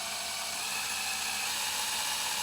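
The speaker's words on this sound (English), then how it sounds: "I use the neck joint to basically help auto-center the drill bit." A drill bit bores into a hard plastic Blythe doll head, giving a thin, steady, high whine that holds evenly throughout at a moderate distance.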